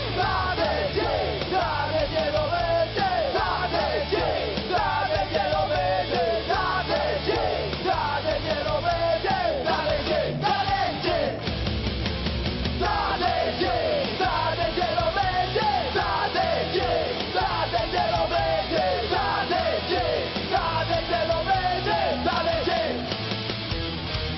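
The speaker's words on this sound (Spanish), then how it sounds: "¡Aplauso! ¡Ovación!" A crowd yelling and cheering at a live concert in a multipurpose arena, loud continuous shouting and whooping blended with music throughout.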